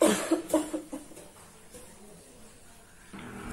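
A child coughs in a quick cluster of several harsh bursts near the start, then quiet room tone with a brief voice at the end.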